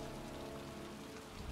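Steady rain in the video game Heavy Rain hisses evenly as a soft, continuous patter on surfaces, with faint low rumbling underneath and no talk.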